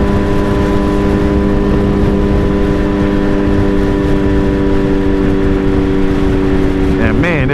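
Suzuki Hayabusa sport motorcycle riding on a winter day with snow on the ground, its engine a loud steady drone throughout with a rising rev near the end, heavy wind rush, and a rider talking over it.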